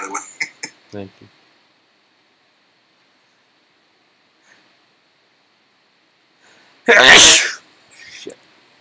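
A single loud, bursting sneeze rings out close by during a live stream, following a few brief bits of talk and a long quiet stretch, with faint rustling after.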